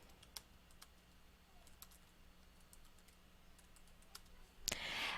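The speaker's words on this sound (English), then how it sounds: "You just type your announcement." Sparse, quiet keystrokes click on a computer keyboard as an announcement is typed, with a short louder burst of clatter near the end over faint room hiss.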